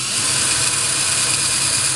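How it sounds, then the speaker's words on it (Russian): A cordless screwdriver fitted with a drill bit bores a hole into a coconut, giving a steady, close, high-pitched whirring grind for about two seconds with no talking. "открытия кокосового ореха с помощью элементарного шуруповерта и сверла"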